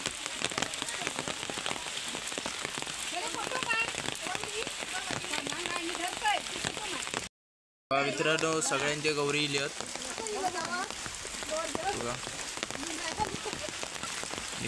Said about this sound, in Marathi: पाऊस पण सुटलो